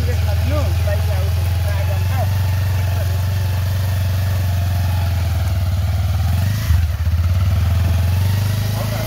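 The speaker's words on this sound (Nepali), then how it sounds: "बाइक आउँछ" A motorcycle on a risky village road in Nepal holds a loud, close, steady engine drone throughout, with a brief surge near the end. Voices talk over it.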